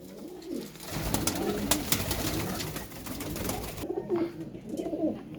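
Flying pigeons kept for sale in Faisalabad coo repeatedly in soft, throaty rolls, close by over a steady backdrop of loft and yard noise.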